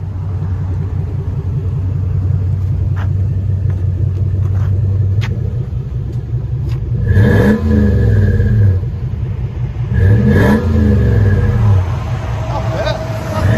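Lexus GX 470 V8 with aftermarket exhaust idles with a low steady rumble as it backs out, then gives two short, loud revs near the end, heard close with voices in the background.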